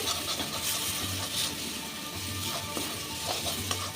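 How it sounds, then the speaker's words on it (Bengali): Onion and garlic paste fries in oil in a pan, making a steady low crackling sizzle with faint stirring and rubbing sounds, quiet and close throughout. "এই পেঁয়াজ আর রসুন বাটাটাও আমি খুব ভালো করে ভেজে নেব"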